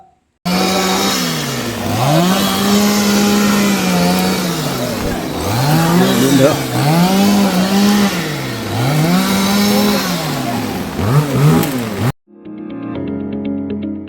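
A chainsaw cuts through a huge uprooted tree that fell across the road at the Nadukani ghat pass. The engine revs loudly and close, rising and falling in repeated cycles, then stops abruptly and a short burst of music follows.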